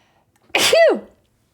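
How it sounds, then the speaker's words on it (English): A single close, loud sneeze, a sharp burst with a rising-falling vocal tone, alone against silence. "I have to sneeze."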